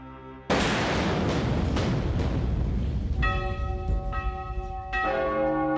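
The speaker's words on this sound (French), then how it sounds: "lorsque les cloches de France célèbrent l'armistice" Church bells ringing across France for the armistice on 11 November 1918, a loud burst of clanging bell strikes rising out of a dense, noisy wash, with clearer ringing tones emerging toward the end.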